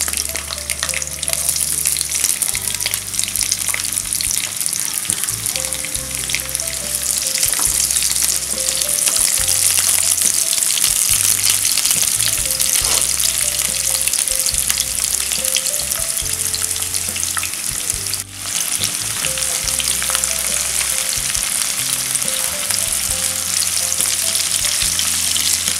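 Onions frying in hot oil in a pan for street-style veg chowmein, a steady loud sizzle with occasional stirring scrapes, continuous throughout with no talking.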